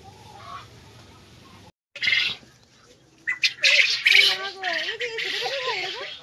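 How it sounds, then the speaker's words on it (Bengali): Kadaknath black chickens cluck and squawk in a run of sharp calls in the second half, near and fairly loud, with people talking around them. "কালো মুরগি, কড়কনাথ চিকেন।"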